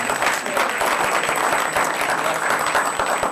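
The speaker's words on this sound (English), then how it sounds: "So we'll have a little round of applause for Eric Tungate." A crowd at a city council meeting claps steadily and loudly for several seconds, a dense, continuous round of applause with no voices rising above it.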